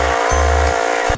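Motorcycle engine revving at a green light, a loud steady drone with a couple of short throttle blips and pauses between them, close by, no talking.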